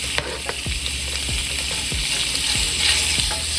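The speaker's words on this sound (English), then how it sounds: "now I'm just going to add my bacon to the pan" Bacon strips hit a pan of hot avocado oil and sizzle steadily, with a bright frying hiss and a few soft clinks of utensils stirring and spreading the pieces.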